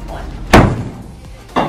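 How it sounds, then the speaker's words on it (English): A door is shut with a sharp, loud slam, followed a second later by a second thud, in an indoor space with faint background voices. "We're gonna try and shut this door now."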